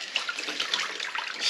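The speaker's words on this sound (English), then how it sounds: "I went and got a tub of water here. I think I can sponge into this" Sponge dipped and worked in a tub of water while cleaning up spilled oil, giving soft, close sloshing and dripping splashes in a brief irregular burst, with no voices.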